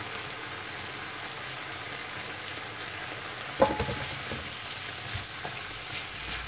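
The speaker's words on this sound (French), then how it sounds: "Et on mélange la viande et le navet dans la poêle." Pork and salted turnip stir-fry in a pan with a steady sizzle throughout, and a spatula knocks sharply against the pan once, followed by a few softer scraping stirs.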